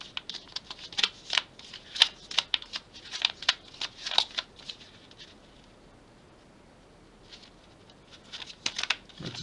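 Tarot cards being handled and rearranged at close range, with crisp flurries of sliding and tapping card sounds, then a quiet pause, then more shuffling near the end.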